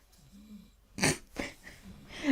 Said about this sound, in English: And when I say something, he snores louder.